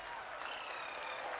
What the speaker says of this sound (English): wow. Applauding.